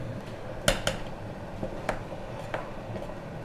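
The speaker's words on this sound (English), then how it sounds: "And we're going to give that a little stir." Sugar, cornstarch and lemon juice stirred in a pot give a few soft scrapes and light taps of a spoon against the pot, quiet and close over a low background hum.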